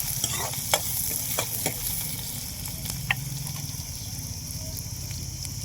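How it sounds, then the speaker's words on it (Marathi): Chopped onion frying in oil in a wok, a steady sizzle broken by intermittent scraping knocks of stirring, with no voices. "लाल होईपर्यंत भाजून, म्हणजे तेलात परतून घेऊ कांदा."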